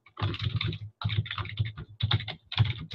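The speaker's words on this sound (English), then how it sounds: "Now I can start typing more." Fast, steady typing on a computer keyboard, with close, crisp keystrokes in quick runs broken by brief pauses.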